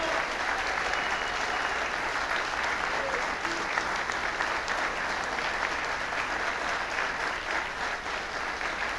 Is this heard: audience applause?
yes